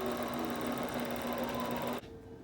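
A longarm quilting machine stitches steadily with its motor turned up near full speed, giving a loud, continuous mechanical drone with a strong whirring tone. It runs alone for about two seconds, then drops sharply to a quieter hum.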